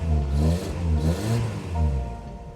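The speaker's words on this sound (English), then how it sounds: "And there we have a good idle." The 22RE engine of a 1987 Dolphin RV camper revs in several swelling pulses, then eases back down and settles toward a steady idle, close and moderately loud with no one talking.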